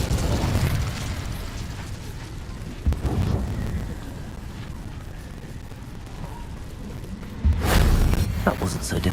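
In Hogwarts Legacy, the Incendio fire spell is cast with a close burst and whoosh of flame, followed by a low rumbling bed and a sharper eruption near the end.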